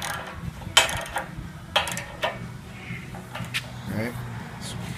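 Metal clamping hardware on a homemade sheet metal brake being tightened down on roughly 0.080-inch sheet, giving a few sharp ratcheting clicks and scraping mechanical noises close by over a steady shop hum.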